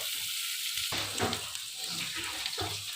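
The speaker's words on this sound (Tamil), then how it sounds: "இதோட போட்டு வதக்குங்க" Sorrel leaves sautéing with tamarind in a pan give a soft sizzle and frying crackle, with a few stirring scrapes, fairly quiet and with no talking.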